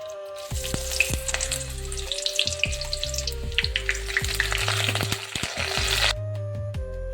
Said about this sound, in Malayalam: അതിലേക്ക് കറിവേപ്പില ഇഞ്ചി വെളുത്തുള്ളി പച്ചമുളക് ഇവ യഥാക്രമം ചേർത്തു